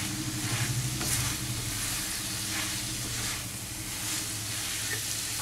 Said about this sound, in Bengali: গ্রেট পেঁপেটা দিয়ে দেব খুব ভালো করে আমি মিশিয়ে নেব